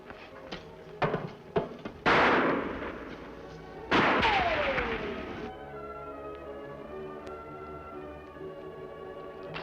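Gunfire rings out in a western TV episode: a few sharp shots early on, then two heavy booming blasts with long ringing decays, the last trailing into quiet.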